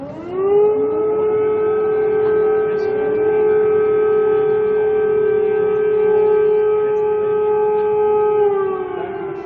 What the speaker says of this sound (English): those sirens here in Kyiv, a signal that this is a city under attack